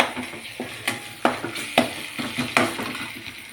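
Ginger garlic paste fries over full gas in a pan with boiled goat brain, crackling and sizzling under sharp, spaced spatula scrapes and clinks against the metal, with no voices.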